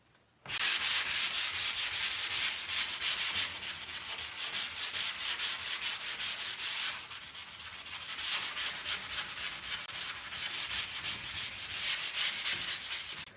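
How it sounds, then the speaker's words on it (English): Continuous abrasive rubbing of sandpaper dry-sanding a painted surface back and forth, close and steady, with a brief dip in intensity partway through. "let's do the dry sanding first"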